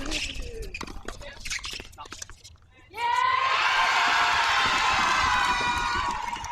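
A tennis tournament crowd at a first-round match of the Oklahoma Tennis Foundation Open bursts into loud, sustained cheering and whooping, rising suddenly after a stretch of quieter talk and holding strong to the end.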